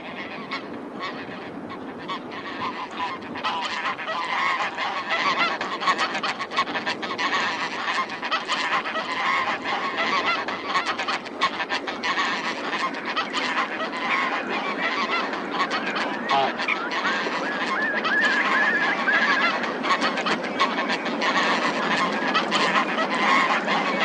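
A large flock of geese descending in flight, whiffling, with dense, continuous honking from many birds at once, loud and layered over the full stretch.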